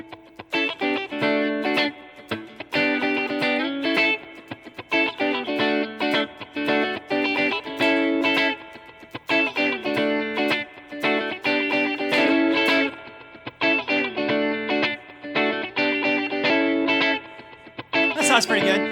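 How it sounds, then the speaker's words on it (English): A looped electric guitar groove with effects, played back from an HX Stomp XL looper, repeats a rhythmic chord pattern steadily and fairly loud, with no talking. "and then bring the looper in, and it sounds like this"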